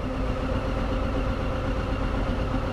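A Harley-Davidson Street Bob with an air-cooled 107 cubic inch engine idling, a steady low, throbbing rumble with an even pulse, close and moderately loud with no talk over it.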